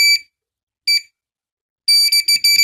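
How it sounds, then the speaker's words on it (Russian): A SHRXY GP Pointer II pinpointer metal detector gives short, shrill electronic beeps: a single beep, a second one a moment later, then a rapid cluster of four quick beeps, close and clear with no talking. "На что-то пищит он у меня."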